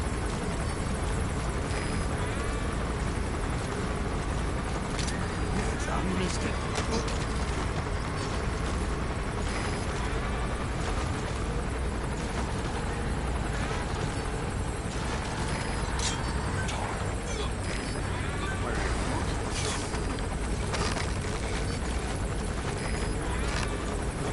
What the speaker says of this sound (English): I'll use the helicopter to help me with noise and take out the bodyguard first.